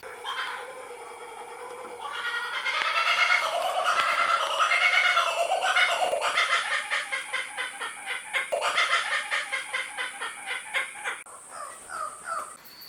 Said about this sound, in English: here is a short video of two turkeys escaping from the rain